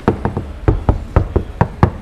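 Knuckles rap about ten times in quick, uneven succession on a sound-deadened C5 Corvette door, each knock close, short and dull with little ring.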